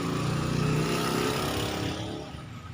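An angle grinder cutting tile while clearing a clogged bathroom, the blade binding as it works, gives a loud, steady buzzing whine close by that eases off slightly near the end, with no talk.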